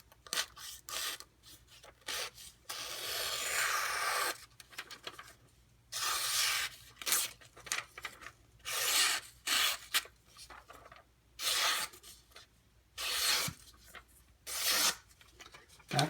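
A knife edge slices through paper after being sharpened on a silicon carbide benchstone, making quiet, repeated rasping strokes separated by short pauses.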